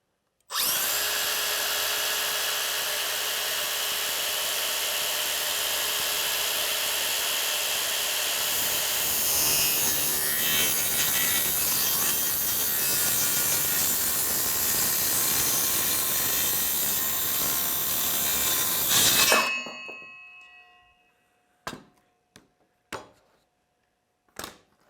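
A power saw cuts through wood being built into a vehicle bumper, a loud continuous whine lasting about nineteen seconds before stopping abruptly, followed by a few short clattering knocks of handling.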